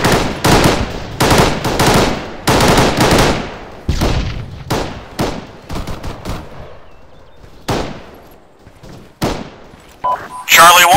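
Bursts of automatic and single-shot gunfire from a squad firefight in the military game Arma 3, loud and close in repeated volleys with quieter distant shots between, while voices talk over the shooting.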